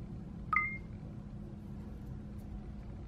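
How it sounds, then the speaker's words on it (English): A single short electronic beep from a scan-to-spreadsheet app confirming a good scan, a clear two-tone chirp that stands alone over faint room hum. "This is a good scan sound."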